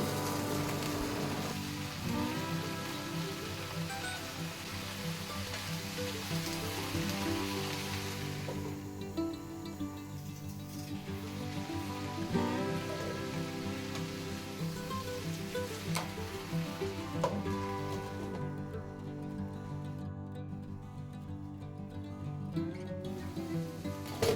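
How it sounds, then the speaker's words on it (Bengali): Slices of eggplant and fresh spinach fry in a pan, giving a steady, dense sizzle that runs the whole time over continuous tonal background sound, with no talking. "এবার এখন পালং শাকগুলো দিয়ে দিচ্ছি"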